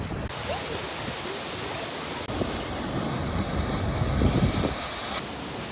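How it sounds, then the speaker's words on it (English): A large waterfall roars as a steady, dense wash of rushing water, loud and unbroken, with a brief knock partway through and faint background sound. "We're at the main waterfall, getting ready to go up"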